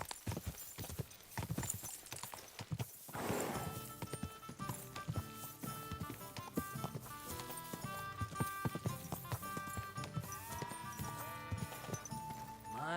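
Horse hooves clip-clopping with a possible whinny in the medieval video game Kingdom Come Deliverance 2, set against a dense, loud musical score that runs throughout.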